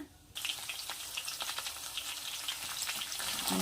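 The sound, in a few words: onions and green chillies frying in oil tempering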